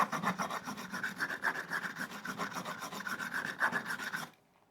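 A metal file rasps across guitar frets during a Frankenstrat replica build, with quick back-and-forth scraping strokes in a steady rhythm, close and fairly loud, ending abruptly just before silence.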